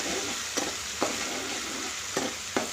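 Masala fries in a pan over a moderate flame and is stirred by hand. A steady soft sizzle runs throughout, broken by about four quick scraping strokes of a spoon against the pan.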